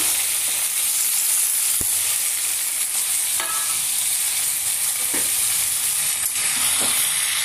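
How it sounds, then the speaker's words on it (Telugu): Small fish and cucumber pieces fry loudly in a curry, a dense, constant sizzle with occasional scrapes and taps of a spoon stirring the pan close by. "అలాగా తిప్పుకోవాలండి ఇవి, ఎందుకంటే చిన్న చేపలు కదా, తీపోతాయని చెప్పి అలాగా తిప్పుకోవాలి మనం"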